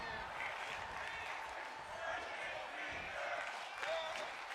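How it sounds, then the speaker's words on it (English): Arena crowd at a pro wrestling match chanting and roaring in a sustained wash of voices, with a commentator talking over it. "And the crowd chanting,"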